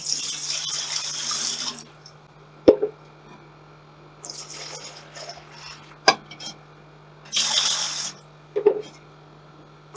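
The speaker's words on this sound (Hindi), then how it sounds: "अब इसमें पानी डालने लगे हैं तकरीबन 4 किलो।" Water pours in bursts into a large cooking pot on a stove, set up for a chicken daleem of soaked lentils and wheat. Short splashing runs alternate with quiet gaps and a few sharp knocks and drips, close by and with no talk.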